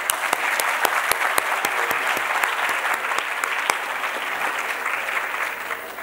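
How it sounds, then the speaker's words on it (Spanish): Loud, full applause from an audience at a student leadership showcase, a thick continuous wash of many hands with a few sharp standout claps near the front, holding steady before easing slightly toward the end. "un aplauso para ustedes."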